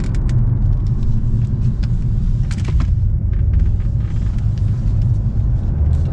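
A third-generation Kia K5 Prestige being driven at speed on the road, with steady, loud low tire and engine rumble throughout and a few faint clicks and knocks over it.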